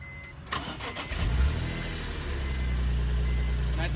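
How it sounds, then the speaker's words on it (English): A BMW Z4 M engine cranks and catches, then settles into a deep, throaty idle that holds steady at close range. "I also want to just see if my car has a more aggressive sound when it starts."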